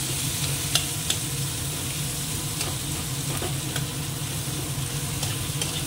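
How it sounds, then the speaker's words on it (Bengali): Steady sizzling of dried chillies frying in a pan, with a few sharp crackles and pops scattered through the continuous hiss. "এর মধ্যে শুকনো লঙ্কা দিয়ে দিই, এটাও একসঙ্গে এর সঙ্গে ভাজা হবে।"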